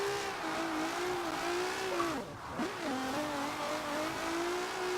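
A Nissan 350Z drifts in Forza Horizon 4, its engine holding a steady high-revving drone with a brief dip and swoop in pitch midway as the throttle lifts and returns.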